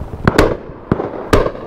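Shotgun shots ring out in the Consall Valley countryside, loud and sharp, as three or four distinct bangs with brief echoing tails in irregular succession.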